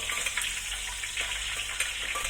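Shallots sizzle in hot oil in a pan for a star-fruit sambal, a steady bright crackling fry with scattered pops, close and continuous without talk.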